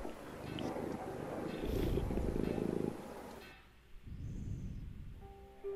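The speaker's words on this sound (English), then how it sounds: "Oh, that's a fat little kitty." A fat little cat purrs in The Pillars of the Earth video game, a steady low rumble that swells in the middle and sits under a wash of ambient noise with no talking.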